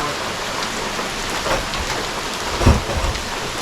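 Heavy rain pours steadily outdoors at a shed demolition site, a dense, loud hiss throughout, with a couple of low thumps or rumbles rising briefly through the downpour.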